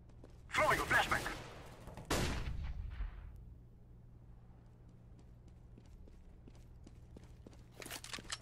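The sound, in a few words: flashbang grenade thrown and detonating in Counter-Strike: Global Offensive video game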